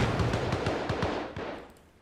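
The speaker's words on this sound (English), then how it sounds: "there's always gunfire here" Gunfire rattles in the Arma Reforger video game, a rapid burst of close shots that gradually fades and thins into a distant echoing tail.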